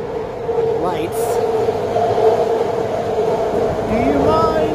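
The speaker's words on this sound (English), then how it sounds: "The BART trains tend to pass through here really frequently" A BART train rolls past a railroad crossing with a steady, fairly loud rumble and a sustained tonal hum, joined by faint rising squeals and whines from the rails.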